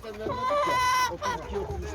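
A rooster crows loudly and close by, with clucking hens and other fowl around it, set against a busy poultry market background in Çubuk, Ankara.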